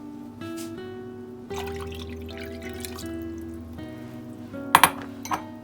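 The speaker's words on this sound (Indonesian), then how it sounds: "Kita isi airnya sampai setengah ya." Water runs and drips into a pot holding lontong molds, a soft steady trickle with a few sharp clinks of metal near the end, fairly quiet and close.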